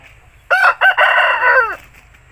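An Aseel rooster gives one loud, close crow lasting just over a second, broken into a few short rising bursts before a long held note that trails off, with quiet surroundings before and after.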